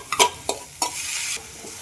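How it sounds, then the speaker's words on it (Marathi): Cooked dal sautéed with Malvani masala, coriander and salt in a kadhai: a few quick spoon scrapes against the pan followed by a brief hiss, close and short. "आणि आपण व्यवस्थित आता परतून घेऊया."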